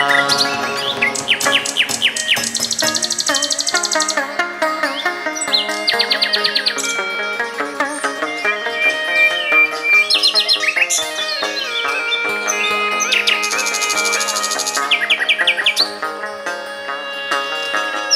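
Birds chirp and trill in short high bursts over a steady bed of music at a mountain retreat, recurring through the passage at moderate volume.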